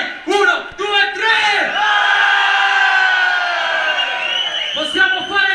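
A crowd bursts into loud cheering and shouting, with whoops and bellowed cries, swelling into a sustained roar before a few chanted shouts at the end.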